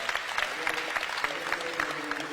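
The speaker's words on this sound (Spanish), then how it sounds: "denle al Señor un aplauso" A church congregation breaks into dense, steady applause, a continuous wash of many hands clapping at close range with no voices on top.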